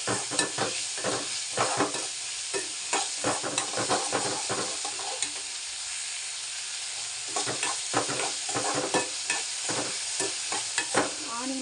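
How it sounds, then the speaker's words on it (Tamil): Onions and tomatoes sautéing in a pan for a spicy puffed-rice dish, loud continuous sizzling broken by quick repeated stirring scrapes, with a brief calmer stretch midway and no talk. "இந்த தக்காளியும் போட்டு நல்லா வதக்கணும் தக்காளி நல்லா வதங்கினா லைட்டாக உப்பு போட்டுக்கணும்"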